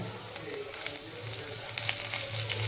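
Cumin, asafoetida, ginger, garlic and chillies fry in a tempering for dal palak khichdi, giving a soft, steady sizzle with small scattered pops and clinks; fairly quiet, with no speech over it.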